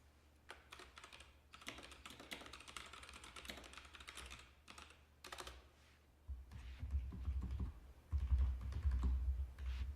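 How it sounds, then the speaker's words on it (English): Typing on two computer keyboards placed side by side, one muted and dull and the other mechanical and plasticky. Rapid close key clatter comes in bursts, and a low rumbling hum joins in later. "So here are the two keyboards side by side, so you can hear the difference."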